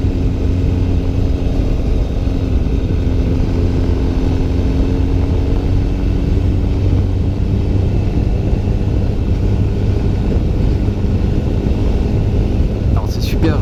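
An MV Agusta F4 or Ducati 1299 Panigale sportbike on the move makes a loud, continuous engine drone mixed with rushing wind, steady from start to finish.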